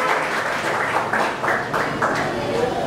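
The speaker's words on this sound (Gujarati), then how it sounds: "તો એકવાર આ બંને ગામ અને બંને પરિવાર માટે જોરદાર તાળીઓનો વરસાદ થવો જોઈએ" Applause at an engagement ceremony, a sustained crowd clapping with a voice speaking over it.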